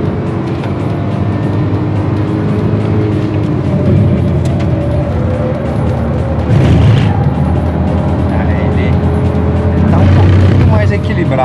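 A Hyundai HB20 Turbo car's engine drones steadily as it accelerates, a loud, continuous low hum heard from inside the car without clear breaks, with a voice talking over it.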